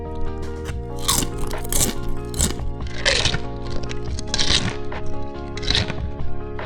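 Walkers Max Double Crunch BBQ Rib crisps crunched up close, loud repeated cracking bites in an uneven rhythm, each burst crisp and sharp, with no talking.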